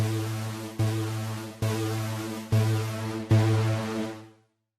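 A synth patch run through a free TAL-Chorus-LX emulation of the Juno 60 chorus plays five sustained, evenly spaced notes, each struck and slowly decaying with a wide, warm shimmer before cutting to silence.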